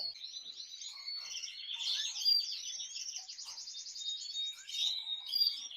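A Belgian canary in a breeding cage with its chick gives bright, rapid chirps and trilling song, close and continuous with short quiet gaps between phrases.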